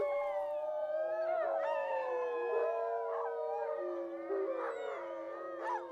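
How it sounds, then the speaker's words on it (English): Recorded rival wolf howls broadcast from a loudspeaker into a forest by a farmer: several long, wavering howls overlap and rise and fall continuously, loud and close, with no talking. "The farmer must play the recorded rival wolf howls every day"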